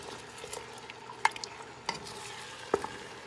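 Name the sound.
stirring spicy pork ribs with brown sugar in pan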